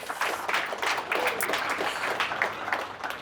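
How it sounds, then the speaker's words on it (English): Applause from a company audience at a talk: lively, dense clapping that holds steady and then begins to thin toward the end, with no speech over it. "So just let's give a round of applause to everybody."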